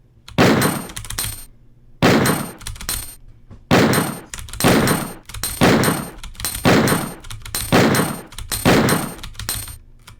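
Magnum pistol fire in Resident Evil 2, quick-shot technique: about eight loud, sharp booming reports with ringing tails, spaced roughly a second apart in an uneven rapid rhythm.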